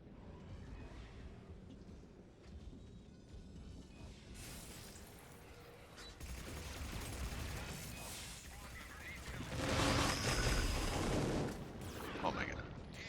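Rapid bursts of Punisher SMG fire in the Mass Effect 3 multiplayer shooter, layered with in-game explosions and effects that swell loudest near the end, while a player talks over the action.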